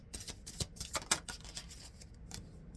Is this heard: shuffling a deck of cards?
yes